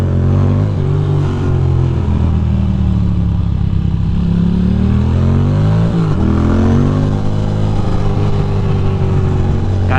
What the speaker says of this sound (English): my bike sounds like a fucking mean machine